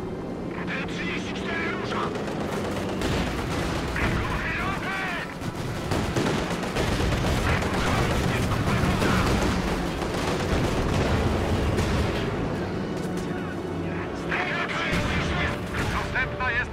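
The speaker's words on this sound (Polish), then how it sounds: "Potrzebna jest artyleria zapalająca. Rozpocząć ostrzał pociskami zapalającymi." Booming artillery blasts and gunfire crackle in rapid bursts while voices talk over the clamor, with aircraft droning in the background, in the video game Company of Heroes 2, with incendiary artillery barrage and a T-34 tank.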